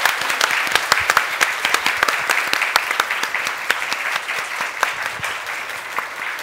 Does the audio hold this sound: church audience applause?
yes